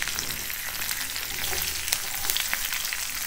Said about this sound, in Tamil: இது கொஞ்ச நேரம் ஃப்ரை பண்ணிக்கலாம்.